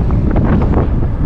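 Strong wind buffeting the microphone while cycling on a road in Vietnam, a brief loud rushing roar with no voices.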